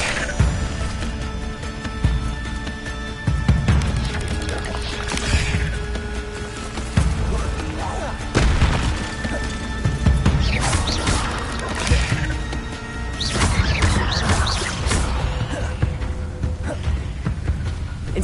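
Spell effects from Incendio and Leviosa cast in a Harry Potter video game, a run of repeated crashing, whooshing bursts at irregular intervals, loud and close with little talk.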